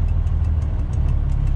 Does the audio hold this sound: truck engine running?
yes